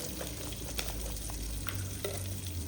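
Curry leaves and urad dal sizzle and crackle steadily in hot coconut oil, a close, continuous frying hiss with scattered pops and no talking.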